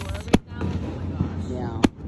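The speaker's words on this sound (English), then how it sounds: "We'll be watching Mount Dora's fireworks" Fireworks burst over a lake at Mount Dora, heard from a pontoon boat deck: two sharp distant booms about a second and a half apart, with a softer pop between, over a steady outdoor background.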